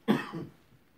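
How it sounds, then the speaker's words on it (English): A single short cough, close and fairly loud, trails off quickly into quiet room tone. "I wanted to cough, that's why."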